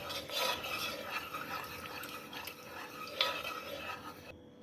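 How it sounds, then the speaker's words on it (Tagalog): Cornstarch being stirred in a bowl until it dissolves, a steady scraping and swishing of a utensil against the container with soft clinks, close and continuous throughout. "Haluin lang ng haluin ng haluin ang cornstarch hanggang matunaw."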